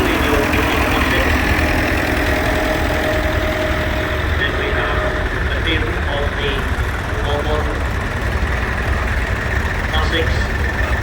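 Tractors of many makes and sizes, including new classics, idle at a show on Anglesey, a steady mid-pitched engine chug running continuously beneath someone talking.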